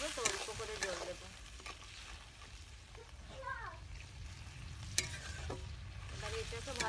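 Crab curry simmering and bubbling in a pan after a little water is added, a steady close frying hiss with stirring scrapes, and a voice talking briefly in the background.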